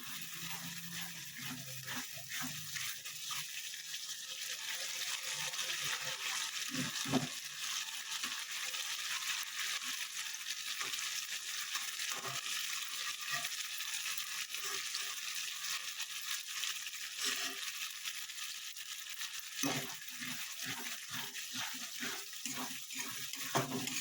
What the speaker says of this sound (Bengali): সেদ্ধ কড়াইশুঁটি দিয়ে একটু কষবো।